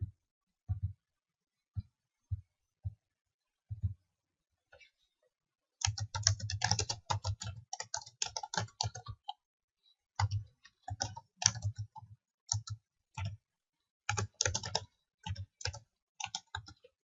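Keys clack on a computer keyboard while working in MATLAB, a few scattered taps first, then bursts of fast close-up typing with short pauses between runs.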